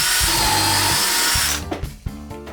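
Power drill boring holes for hex screws through oak desk legs: a loud steady high whine for about a second and a half, then the motor cuts off and the drill winds down, followed by a few light knocks and clatters.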